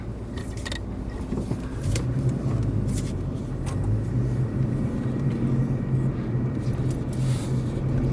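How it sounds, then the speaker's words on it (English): A car reversing on forest roads, a low steady engine rumble with mechanical whir close by, plus scattered clicks and knocks over the drone, no voices. "gotta put my car in reverse"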